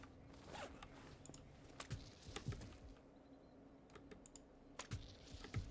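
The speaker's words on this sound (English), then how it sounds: "But this keyboard hella loud." Loud computer keyboard typing, with the mic right up against the keys: close, crisp, irregular clicks and clacks coming in uneven bursts with short pauses, with no talking.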